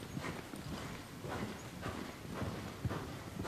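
Hoofbeats of the horse Mikosch in the video game Bibi und Tina, a steady clip-clop rhythm of repeated hoof strikes at moderate loudness with no talk.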